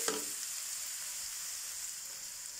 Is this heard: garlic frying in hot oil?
yes